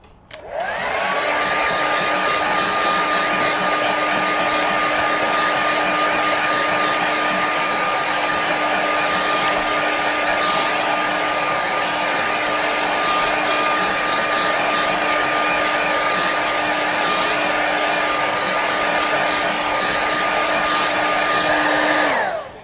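A hair dryer blows on a watercolour painting of a river through a forest, a loud steady whirring roar with a constant motor whine that starts abruptly and runs without a break for over twenty seconds, alone without voices.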